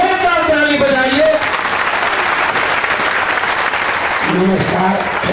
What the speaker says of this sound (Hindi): अब प्रशांत किशोर जी के लिए एक बार जोरदार ताली बजाइए।